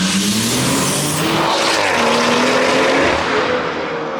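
A BMW M140i tuned to Stage 3 drives on a public road, its engine note droning loud and close from inside the cabin, pitch rising and shifting steadily over a heavy wash of road and wind noise.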